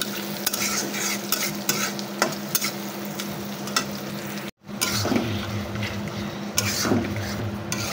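Onions, green chillies, cardamom, cinnamon and cloves sauté in a pan with a loud, dense sizzle and frequent metal scrapes and clatters from stirring; a brief silent gap falls midway before the frying and stirring carry on.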